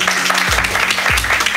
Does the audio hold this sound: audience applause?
yes